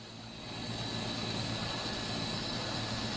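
A TIG welder fuses the corners of stacked Damascus steel layers under argon shielding gas, producing a steady, dense buzzing hum that swells after a moment and then holds evenly.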